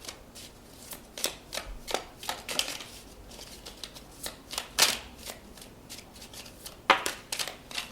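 Mini tattoo tarot cards being shuffled by hand, with a series of crisp riffles and flicking snaps at an uneven rhythm, close and fairly loud against a quiet background.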